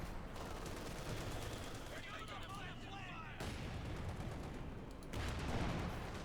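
Machine gun fire rattles in a dense, continuous wash of battle noise in the strategy game Company of Heroes 2, fairly faint and steady throughout with no clear individual shots standing out.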